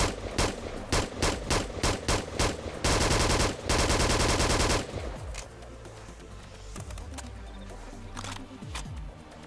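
Blank-firing British assault rifles are test-fired in a military video game: several loud single shots in a steady rhythm, then a sustained automatic burst, then quieter scattered noise and clatter.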